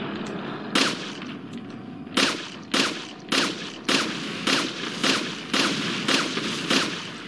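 Gunfire in the Resident Evil 4 video game, about nine loud, sharp shots spaced roughly half a second to a second apart, each with a short echoing tail, with no talk over them.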